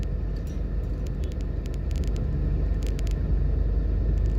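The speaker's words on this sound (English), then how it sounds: "It's about 3 o'clock in the afternoon, so that will give you an idea of what the traffic is like." Afternoon road traffic on East Kings House Road in Jamaica, a loud continuous low rumble of passing vehicles with faint higher clicks, heard from close by with no voices.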